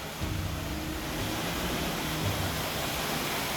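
Steady rushing water pours continuously through an old water mill, a broad even roar close by with no pauses or other sounds.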